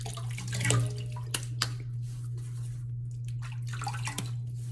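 Tap water runs and splashes as hands wet the face before a shave, with intermittent close splashes and drips over a steady low hum.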